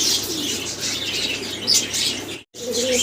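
Pigeons kept for sale coo in soft, repeated throaty calls, with a few brighter chirps and a short wing flutter, heard fairly close with no one speaking.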